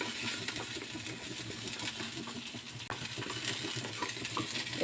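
Shallots with ginger sauté in a pan for coriander chutney, giving a steady close sizzle with light stirring scrapes and one brief metallic clink partway through.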